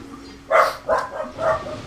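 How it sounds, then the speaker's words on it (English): Dogs barking close by: three loud barks in quick succession, evenly spaced, with no talk over them. "My doggies are barking!"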